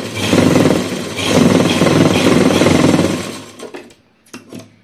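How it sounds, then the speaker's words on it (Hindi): A sewing machine runs a firm stitching line along the elastic waistband of a circular palazzo, a steady loud mechanical whir for about three and a half seconds before stopping, followed by a few faint handling clicks. "अब इसको हम इस तरह से स्टिच करेंगे"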